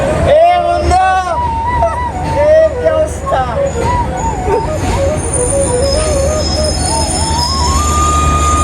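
A train rolls past in Panchagarh with high metallic wheel squeals rising and falling over a low rumble, while voices chatter nearby.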